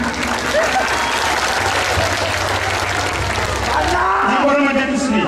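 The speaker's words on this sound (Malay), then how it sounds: "Tepuk tangan, Pak." A crowd at an UMNO Youth Semporna opening-speech event claps their hands in a loud, sustained burst while a voice carries on over the applause.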